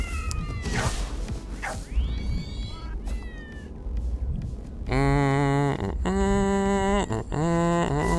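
Cats meow repeatedly in the Tokyo Jungle video game, starting as scattered mews over ambient game noise and turning into loud, drawn-out, tonal meows in quick succession toward the end.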